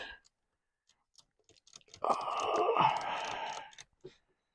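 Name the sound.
taking keyboard off a vintage Commodore 64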